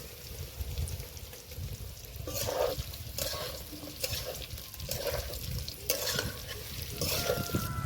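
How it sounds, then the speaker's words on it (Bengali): Boiled jackfruit pieces frying and being stirred in a pan, steady sizzling with repeated scraping stir strokes at an uneven rhythm, close and fairly quiet. "তো এখন ভেজে নেব"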